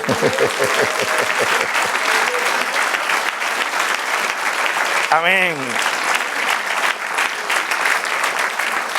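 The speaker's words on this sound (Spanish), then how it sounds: "Denle un aplauso al Señor" Congregation applauding in a church service, steady dense clapping throughout, with a voice and brief singing-like vocal over it.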